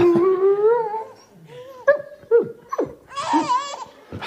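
A dog howls in long, wavering tones alongside a baby's squeals and laughter, the two trading sounds back and forth up close in a short played home video.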